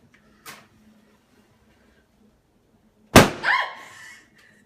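A faint tap, then a sudden sharp bang as a hydrogen-filled balloon ignites, bursting loudly and ringing out briefly with a short scraping tail before fading.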